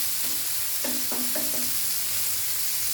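Fish frying in a pan over a medium flame, a steady close sizzle running throughout with a few brief clinks partway through.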